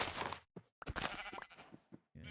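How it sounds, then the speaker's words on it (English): Sheep bleating in Minecraft, several wavering baa calls in quick succession, fairly loud and close, with short gaps between them and no talk. "Wow, there's a lot of sheep here."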